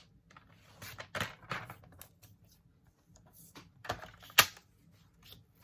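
A paper trimmer slicing strips of cardstock for handmade cards, heard as a few sharp, close clicks and cutting swipes spaced apart against quiet room tone.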